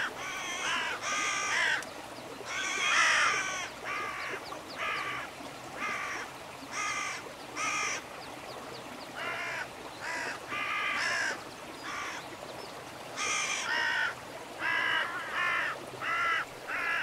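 Crows caw repeatedly in clusters of harsh calls, several birds answering one another at moderate distance over a steady outdoor background.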